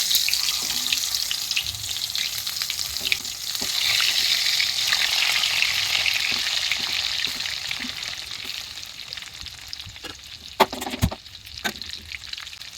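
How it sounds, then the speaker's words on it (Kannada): Stuffed brinjal (eggplant) frying in oil in a pan with mustard seeds and cumin: a loud, continuous sizzle and crackle, with a few sharp pan clinks and stirring knocks near the end. "ಸ್ಟಫಿಂಗ್ ಮಾಡಿರೋ ಬದನೆಕಾಯಿನ ಬಾಣಲಿಗೆ ಹಾಕ್ತಾಯಿದ್ದೀನಿ"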